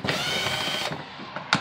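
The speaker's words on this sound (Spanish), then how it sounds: "yo utilizo, como saben, mi pequeño D-Wall, mi taladro, mi desatornillador de batería" A DeWalt cordless drill/screwdriver whirs steadily at close range for almost a second, then stops. A brief second burst follows near the end.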